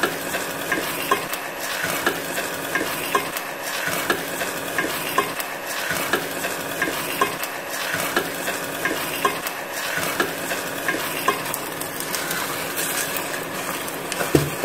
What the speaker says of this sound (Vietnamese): Khi nấu các bạn chịu khó đảo nhé, để cho dưới đáy nồi nó không bị bén nhé.